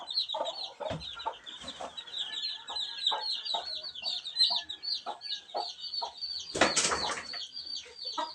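Chickens kept on a house roof cluck and chatter in repeated bursts, with wings flapping loudly near the end and a steady high bird twitter running behind them.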